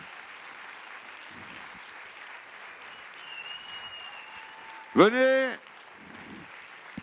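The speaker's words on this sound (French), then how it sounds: "vous applaudissez très fort" An audience at a closing-ceremony evening applauds steadily through the whole stretch, while someone speaks briefly and a sharp burst of cheering rises near the middle.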